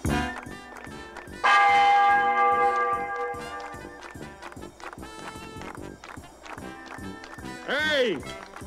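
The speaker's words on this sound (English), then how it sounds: "Ring out the church bell." A church bell rings out in a Western town scene, its bright clanging tones swelling over clip-clopping horse hooves and a busy crowd, with voices talking throughout.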